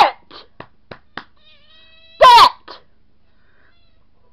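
A cat gives a loud meow, a short wailing cry in the middle of a quiet room, with a few scattered clicks and soft knocks before it and a faint noise after it.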